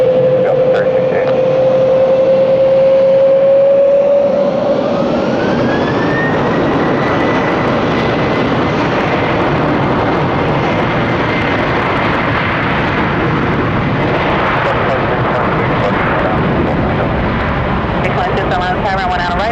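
A Delta airliner jet takes off at Atlanta airport: a loud continuous roar of jet engines with a rising whine near the start, spreading into a broad sustained rumble, close to the listener.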